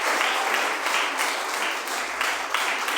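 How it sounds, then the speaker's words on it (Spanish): A church congregation gives steady, dense applause that fills the room evenly for a few seconds, with no voices standing out. "Dale una ofrenda de palmas a Jesús."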